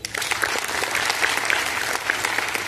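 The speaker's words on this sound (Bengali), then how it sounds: "একবার জোরসে হাততালি দিন।" An audience at a Modicare business presentation claps loudly on request, a dense, continuous burst of many hands with a few sharper individual claps standing out, steady for nearly three seconds.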